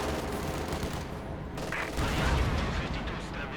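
Battle noise from Company of Heroes 2 with ISU and Panzer IV tanks firing: dense, continuous bursts of gunfire and explosions form a loud, rumbling wall of combat sound.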